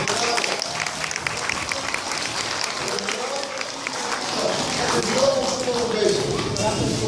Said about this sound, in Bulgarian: Още веднъж аплодисменти за децата.